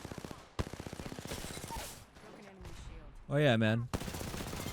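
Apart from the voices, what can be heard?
gunfire in a video game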